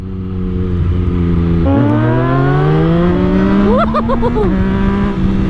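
A 2022 Yamaha MT-09 motorcycle with a tuned ECU revs hard, its engine note climbing steadily through the gears with a sharp shift blip midway, loud and close under a wheelie.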